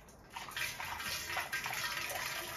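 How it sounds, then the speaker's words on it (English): Cider kit liquid poured into a corni keg gives a continuous splashing gush, close and moderately loud, steady throughout with no speech. "So, I'm going to pour this in like so."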